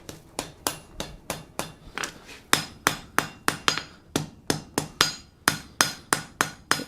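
A hammer strikes hot steel being forge welded in a reducing fire, ringing out in a steady, loud rhythm of about three blows per second at close range, with a brief pause partway through.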